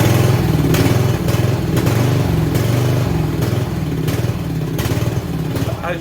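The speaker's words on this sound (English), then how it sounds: "there is power in the engine, and it turns over, and I will show you what that's like." A small racing lawnmower engine turns over and runs close by, a loud, rhythmic chugging with regular pulsing beats and a faint clattering edge, heard alone.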